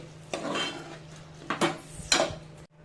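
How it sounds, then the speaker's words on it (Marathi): Rice and lentils being stirred with spices in a pot, giving a few distinct scraping clinks of a spoon against the pot, close and moderately loud, under a steady low hum. "छान मिक्स करून घेऊया।"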